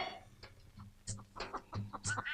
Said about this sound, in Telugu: రుద్రయ్య గారి పెంపుడు కోడి.